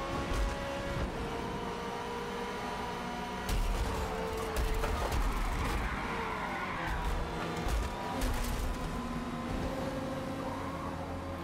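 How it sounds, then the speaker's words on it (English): Le Mans prototype race cars skid and collide in Forza Motorsport, steady engine roar with tire squeals and crunching impacts rising midway, loud and continuous with no talking. "Oh gosh, cars flying everywhere."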